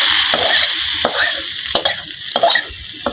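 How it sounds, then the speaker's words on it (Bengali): Spices frying in hot oil in a wok, a loud close crackling sizzle broken by repeated scraping stirs and sharp spatter bursts, with no voices. "আর এক কড়াইতে তেল মশলা এই সব গরম করে দিল"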